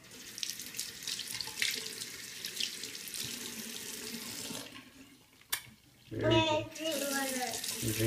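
A bathroom sink tap runs steadily as water pours into the basin, close and continuous, briefly cut off before a voice and more running water follow.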